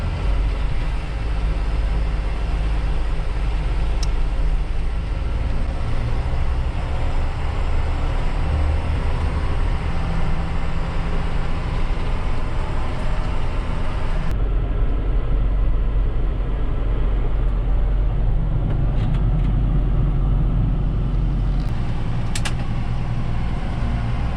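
A tractor engine runs steadily on a farm during manure hauling, a loud continuous low rumble that carries on alone, with a shift in tone partway through.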